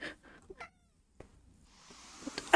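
A pet cat named Lando, a heavy cat of well over ten pounds, gives a few short faint meows and murmurs amid near silence, ending in a louder sharp cry.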